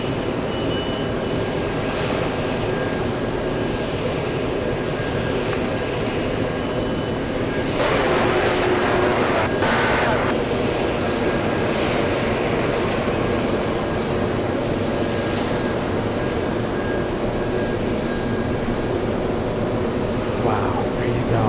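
Airbus A380 taking off from runway 22 Right at JFK airport, a loud sustained jet engine roar held steady over the whole stretch, with brief talk and crowd noise nearby.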